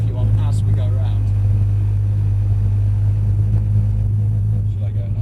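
Mercedes C63 AMG engine holding a steady low drone at lower revs through a driving-experience session, loud and continuous underneath people talking in the car.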